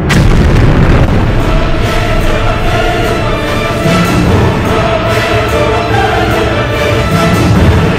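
A loud, sustained explosion: a broad booming blast with rolling rumble that holds steady for several seconds, close and heavy, with no voices over it.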